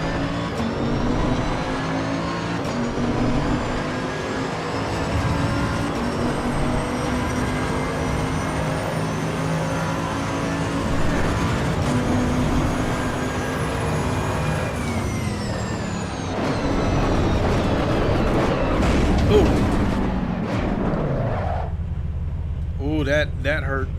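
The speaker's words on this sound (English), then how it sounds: "listen to this when I hit the brakes. You're like just, yeah, you hear a lot of stuff going on when you hit the brakes" A race car in the Assetto Corsa Evo racing game roars under engine load, then the pitch drops as it brakes hard and shifts down before a sudden impact and rough idle, with someone talking over it.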